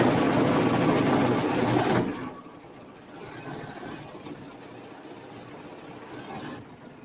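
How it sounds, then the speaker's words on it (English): A home embroidery machine stitching out a hot cocoa design whirs loudly and steadily at first, then continues as a quieter, even mechanical hum close by. "it's going to stitch out hot cocoa on the bottom and then hug in a cup at the top"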